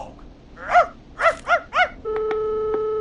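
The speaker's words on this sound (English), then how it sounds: "You just let loose the junkyard dog." A junkyard dog in the Killer Frequency video game barks four times in quick succession, loud and close, followed by a sustained electronic tone with short beeps.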